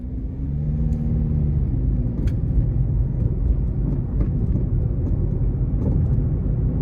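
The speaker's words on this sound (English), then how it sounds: "you have the whine from the transmission" Small 2012 Scion iQ engine accelerating from the cabin, a steady loud rumble with a rising transmission whine underneath and faint clicks scattered through.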